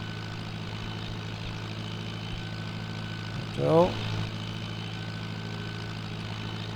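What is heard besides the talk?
truck engine in video game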